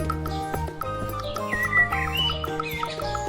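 A cartoon parrot chirps, with quick bright tweets and a rising whistle-like call over a busy musical backing that plays throughout.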